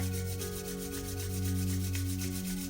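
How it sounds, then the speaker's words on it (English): Palms rubbing together in a qigong exercise, a steady soft brushing friction, continuous and close over a constant low background hum. "we'll begin by simply rubbing the hands together"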